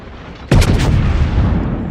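Gunfire from the battleship North Carolina in World of Warships: one loud, deep booming salvo erupts abruptly and rolls on with a sustained rumbling tail, with no talk.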